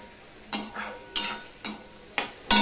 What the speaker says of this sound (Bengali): এবার মশলাটা আমি কষাতে থাকবো।